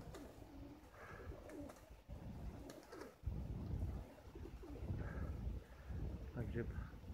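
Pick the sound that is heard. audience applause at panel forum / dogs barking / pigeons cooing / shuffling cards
pigeons cooing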